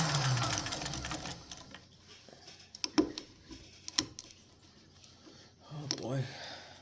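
A sewing machine stitching bonnets, with a steady mechanical whirr at the start that fades into scattered clicks and ticks, then a short buzzing run near the end, close and fairly quiet, with a voice talking at points.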